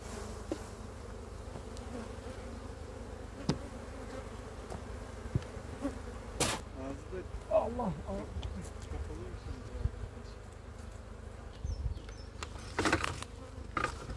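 Honeybees buzz around an opened hive while a beekeeper splits a colony outdoors, a faint continuous drone with individual bees passing close now and then, plus occasional knocks and handling noises.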